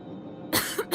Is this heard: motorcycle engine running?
no